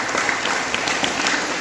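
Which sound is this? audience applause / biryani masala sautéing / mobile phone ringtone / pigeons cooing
audience applause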